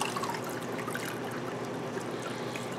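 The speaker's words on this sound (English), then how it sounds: "We're just going to run this off in through that strainer" Hot rendered beef kidney suet poured from a warm pan through a strainer, a steady close liquid trickle and stream running continuously without a break.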